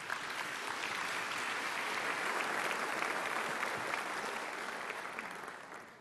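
Steady audience applause fills the hall as a speaker is welcomed onto the stage at a university tech day talk, a dense, even wash of clapping that holds throughout and tapers slightly at the end.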